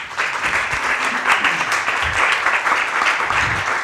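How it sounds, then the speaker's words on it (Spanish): An audience at an annual cervical cancer conference claps warmly for the oncology team and guests, a brisk, steady round of applause filling the room. "por favor, un aplauso."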